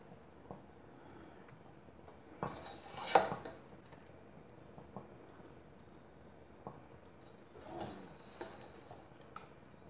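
Chicken biryani being mixed in a pot, with soft scraping and a few louder clanks of a spoon against the metal. The stirring is close and intermittent, with quiet pauses between strokes.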